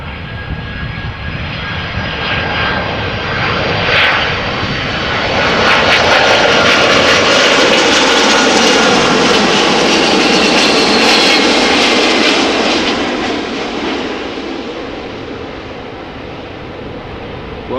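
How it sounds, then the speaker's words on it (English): A widebody Airbus A330-300 arriving from Beijing lands at Amsterdam Schiphol on runway 06, its loud engine roar swelling to a peak as it passes close and then slowly fading. "It is an Airbus A330-300, 8 years old, first flight June 2014."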